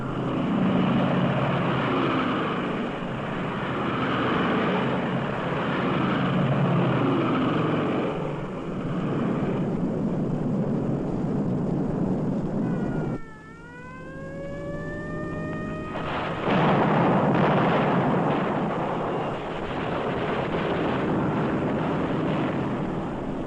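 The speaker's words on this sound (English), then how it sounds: "300 British heavy bombers took to the air." British heavy bombers flying over on a night raid on Peenemünde, a dense continuous engine roar with a rising-and-falling whistling tone, like a falling bomb, in the middle.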